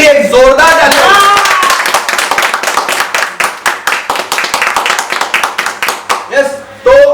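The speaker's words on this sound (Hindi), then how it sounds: "तो मैं चाहता हूं कि इन तीनों के लिए एक जोरदार ताली।" Audience at a motivational seminar clapping loudly in a burst of distinct claps that slowly thins out, with a voice speaking at the start and the end.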